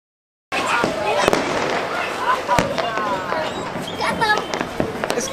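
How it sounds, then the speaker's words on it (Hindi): Diwali firecrackers going off at a home celebration, sharp cracks and pops scattered irregularly through a steady background of crackling, with people talking and calling out amid the noise. "अब है पटाखों की बारी, हम भी फोड़ेंगे"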